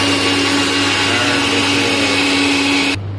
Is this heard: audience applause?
no